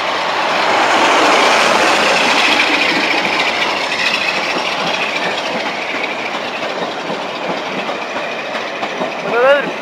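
A Class 47 diesel locomotive, 47815, hauling a rake of Mark II coaches through Newark North Gate station, a loud sustained rumble with rhythmic wheel clatter, ending in a brief squeal.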